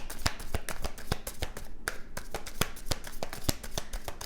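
Tarot cards shuffled by hand, a close run of crisp, evenly spaced slaps and riffles with a brief pause in the middle, and no one talking.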